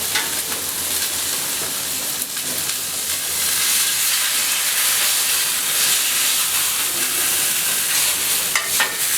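Cod fish sears in a hot pan with a continuous loud sizzle and hiss that stays steady throughout.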